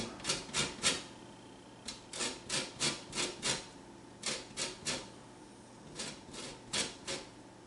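A lemon is zested on a small cheese grater, giving close rhythmic rasping strokes in short bursts of three to five rubs separated by brief pauses, with no talking.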